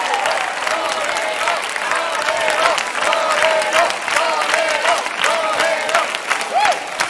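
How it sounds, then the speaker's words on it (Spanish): Audience applause fills a concert hall, a dense sustained clapping from a large crowd with some cheering, and a voice sounds briefly over it. "Quiero agradecerles a todos sus aplausos"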